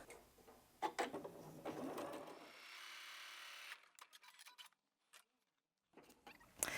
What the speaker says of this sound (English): I'm going to start by doing a little top stitch